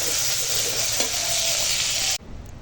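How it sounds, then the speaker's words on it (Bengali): Shrimp fry in hot oil with a loud, dense, continuous close sizzle that cuts off abruptly near the end, leaving only quiet low background noise. "এই চিংড়ি মাছটা ভেজে নিচ্ছি"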